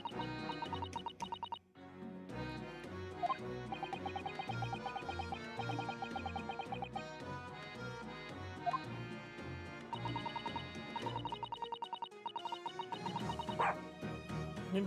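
A dog in the video game The Great Ace Attorney 2 gives repeated short, small barks over continuous game music, fairly quiet and evenly spaced.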